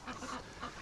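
A breeding duck quacks in a short, raspy burst of repeated calls, fairly close though not loud, with no talk over it.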